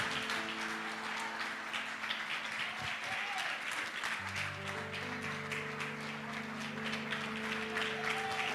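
A church congregation applauds steadily during a Portuguese-language worship service, sustained clapping with sustained music tones running underneath and a voice coming through now and then.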